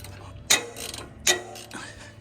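A ratchet working on a cross-threaded bottom bolt on a boat trailer tie-down, two sharp clicking strokes with grinding mechanical noise between them, close and fairly loud.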